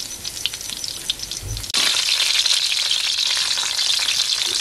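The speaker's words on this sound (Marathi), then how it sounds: "फ्राय करण्या अगोदर अशी लसूण टाकायची, त्याच्यानंतर मग मच्छी फ्राय करायला घ्यायची." Garlic sizzling loudly in hot oil in a pan over a wood-fired clay stove, ready for frying river fish; a brief low thump, then a steady, dense crackle that grows stronger and continues with no talk.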